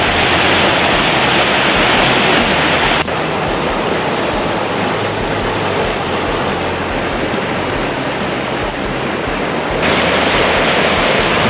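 Rapids of Virginia Creek, a California mountain trout stream, roar as a loud, steady rush of white water close by, dipping slightly in level partway through with no voices.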